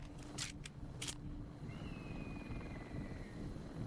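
Helicopter in the video game Arizona Sunshine 2: a faint, steady rotor rumble running throughout, with a few short bright bursts near the start.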